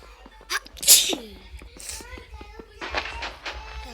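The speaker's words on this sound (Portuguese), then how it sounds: "Peraí que eu vou espirrar." A child lets out one sharp, close sneeze about a second in, then keeps talking in a voice with small hand sounds around it.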